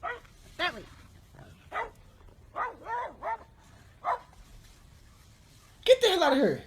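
A small dog chasing off a bird yips and barks in a series of short, sharp bursts with pauses between them, ending in a louder, excited flurry, with voices mixed in.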